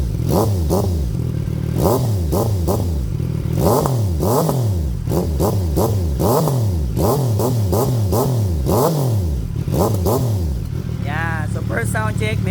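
A CF Moto 675 SR-R motorcycle with an IXIL full exhaust, dB killer and silencer fitted, revs repeatedly up close in sharp rising and falling bursts. Someone talks over it throughout.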